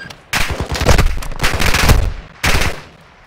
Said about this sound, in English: NPC shooting behind us.